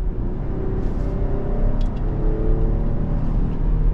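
A 2025 Dodge Durango GT Plus AWD drives in sport mode, its 8-speed automatic shifting; a steady low engine and road rumble fills the cabin with slight rises in drone, loud and continuous.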